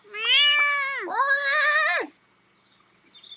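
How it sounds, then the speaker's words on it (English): A grumpy cat in the farming video game Big Farm Story gives two loud, drawn-out, whiny meows back to back. High chirping game sounds follow. "What a grumpy cat."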